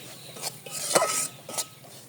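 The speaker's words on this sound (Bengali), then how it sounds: "সুজিটা দিয়ে এই যে ভেজে নিতে হবে।" Semolina frying in oil with cardamom in a pan for a carrot halwa, with a few distinct scraping strokes of a spoon against metal and a soft sizzle between them, close and otherwise quiet.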